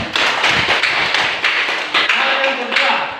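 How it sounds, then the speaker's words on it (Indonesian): Classroom of sixth-grade pupils applauding a classmate, a dense stretch of quick overlapping claps with a few louder taps, close and steady throughout, with voices mixed in. "Tepuk tangan untuk dia dan Roni."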